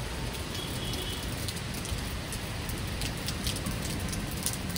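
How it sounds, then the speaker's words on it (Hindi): Heavy rain pours steadily over Delhi, a dense, constant hiss of drops on surfaces with no pauses, fairly close and filling the whole scene with no voices. "ये देखो दोस्तों तगड़ी बारिश हो रही है"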